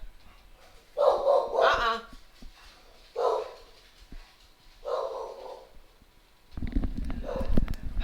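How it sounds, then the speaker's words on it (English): A dog barks indoors from the stairs in several separate bursts of barking and yipping spaced a second or two apart, fairly close, followed by rustling household noise. "Turns out she can sit on the stairs and look out the front window and bark at things from up here."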